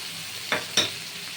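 Continuous hiss of ground spice paste frying with potatoes in a pan, broken by two quick scraping stirs close by.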